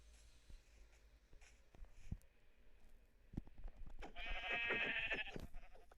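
A single sheep bleat in Minecraft rises near the end over faint clicking and soft background noise, with no speech.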